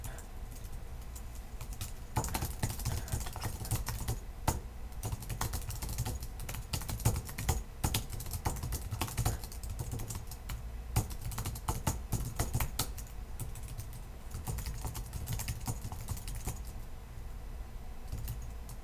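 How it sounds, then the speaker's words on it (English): Rapid irregular keystrokes on a computer keyboard, close and quiet, continuing in bursts with short pauses over a low background hum. "And then you can keep typing."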